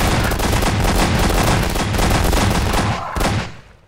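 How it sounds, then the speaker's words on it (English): Rapid gunfire in the video game Garry's Mod, a loud, dense, continuous burst of shots filling several seconds before cutting off and fading out. "They actually, like, shoot someone."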